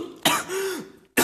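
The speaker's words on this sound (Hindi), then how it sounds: "सच्ची में खांसी आई है मुझे।" Two sharp, harsh coughs burst out close by, separated by a brief throaty rasp between them.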